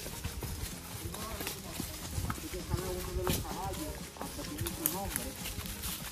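Young horses' hooves clip-clop steadily on a hard surface on the way to the El Limón waterfall in Samaná, the irregular beats of several animals blending together, with voices talking over them.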